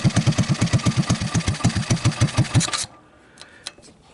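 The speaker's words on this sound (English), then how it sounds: "Boy, she sounds really nice. Every once in a while, you just get yourself a real sweet motor" A Honda ATC185 three-wheeler engine, long abandoned and just revived, running with an even, quick putter before cutting off abruptly, leaving faint clicks and quiet shop noise.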